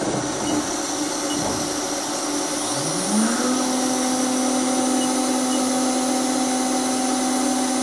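A CNC milling machine at 15,000 RPM cutting a block of aluminum, a steady high whine from the spindle that rises in pitch and settles into a sustained tone over a constant machine hum.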